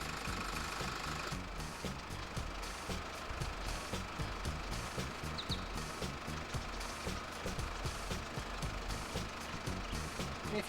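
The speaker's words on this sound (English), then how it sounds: "your engine's running, we'll have to leave it." Vehicle engine left idling with a Terrain Tamer exhaust jack's tube and rubber cone fitted over the exhaust, a steady low rumble with quick rhythmic pulsing, fairly quiet and constant with no voices.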